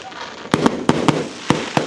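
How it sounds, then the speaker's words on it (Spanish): Fireworks burst on Christmas night, with six sharp booms coming at irregular intervals over a steady outdoor hiss. The explosions sound moderately close. "Bueno, comenzaron los fuegos artificiales."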